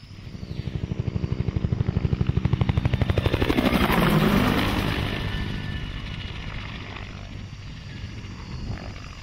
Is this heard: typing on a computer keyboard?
no